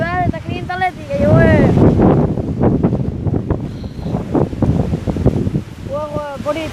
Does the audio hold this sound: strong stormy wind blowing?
yes